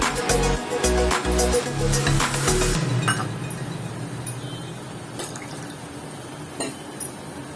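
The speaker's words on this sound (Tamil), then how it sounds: "ஒரு அரை டம்ளர் தண்ணி ஊற்றிக்கலாம்." Glass clinks a few times, then half a tumbler of water pours steadily into a pan of bottle gourd being cooked for kootu, a soft running splash that fades toward the end.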